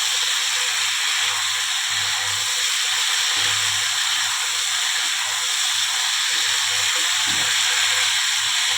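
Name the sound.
stirring vegetables and spices frying in a pan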